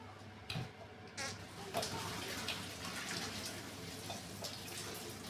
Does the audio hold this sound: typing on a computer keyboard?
no